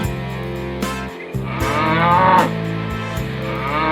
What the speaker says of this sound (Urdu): اب شیر بھینس کی بھیانک آواز سن کر رک گیا